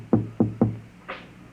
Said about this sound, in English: And then there was a knock on the door.